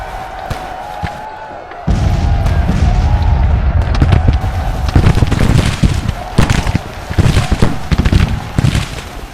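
Cannon and musket fire in the Civil War game Grand Tactician, booming blasts and sharp reports that kick in after a quiet start and continue under a crowd-like battle din.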